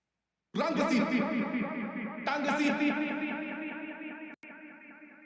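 A sung vocal phrase drenched in delay and reverb, 30% mix with a 2.1-second decay, its repeating delays smearing into a washy, spacious tail, with a brief cut near the end.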